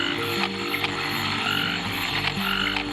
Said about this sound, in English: These golden-backed frogs are busy trying to attract mates.